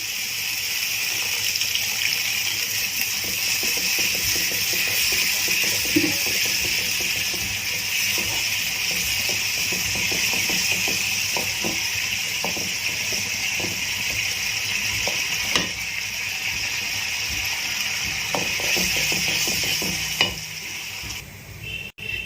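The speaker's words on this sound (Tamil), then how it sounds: "இப்போ இதில் லைட்டாக தண்ணி ஆட் பண்ணிக்கிறேன்" Water poured into a pan of sizzling spicy tofu gravy masala makes a loud, steady hiss that continues throughout, with faint stirring clicks and scrapes underneath.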